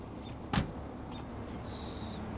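Rear-hinged suicide doors on a car in the video game BeamNG.drive swing open with a single short, clear clunk, then a quiet steady background hum and a faint thin tone.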